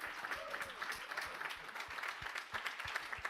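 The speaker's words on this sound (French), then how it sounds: "Donc là, ils s'applaudissent hein" Faint, distant applause from a room of NASA team members after the Perseverance rover landing, a steady patter of many hands clapping for a few seconds.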